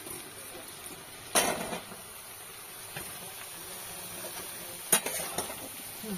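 Potatoes and eggplant go into a pan of oily dried fish being cooked down, with a steady faint sizzle and a few sharp clatters of a spoon against the pan as it is stirred.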